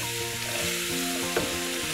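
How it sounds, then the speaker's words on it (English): Onions softening in a pan of melted butter and oil for a lamb, potato and spinach curry, a dense, even sizzle heard close up and alone, with a brief stir-like scrape midway. "we're gonna gently cook these onions"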